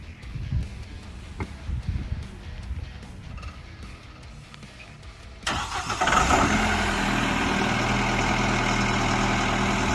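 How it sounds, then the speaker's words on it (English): A PC 169 70 hp stump grinder's engine cranks over and fires up after several seconds of low background noise, then settles into a loud, steady, close-up running drone. "So we'll go ahead and start the machine up."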